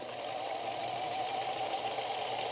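A sewing machine used for piecing quilt tops runs continuously at an even speed, a steady whirring hum with a fast mechanical pulse, close by and with no talking.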